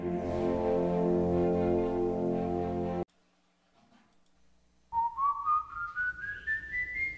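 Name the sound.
eerie whistling of the legendary Silbón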